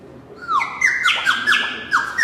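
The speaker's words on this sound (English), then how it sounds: "This one is a Chinese water whistle called the nightingale whistle." A Chinese water whistle, the nightingale whistle, warbles birdsong-like phrases: a series of bright, bubbling trills and swooping chirps repeating in quick succession, close and clear with no talk.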